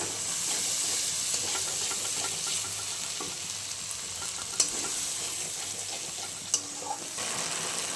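Spice masala with tomato paste sautéing in a pan, a continuous soft sizzle and bubbling hiss with occasional scrape and clink of a spoon, moderately quiet and close.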